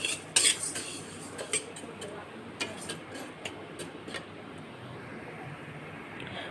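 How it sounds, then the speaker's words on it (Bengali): About a cup of mung dal dry-roasts in an empty wok, heard as scattered metallic clinks and scrapes of stirring, some sharp and close, over a faint background. "দিয়ে শুকনো খোলায় ভালো করে ভেজে নেব।"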